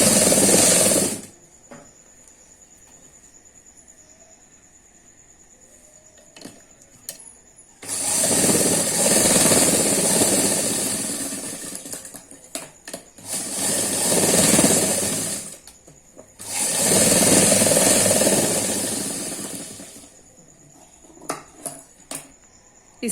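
A sewing machine stitching kurti jacket fabric, running in four bursts of steady rapid whirring separated by quiet pauses with small clicks and handling noises between runs.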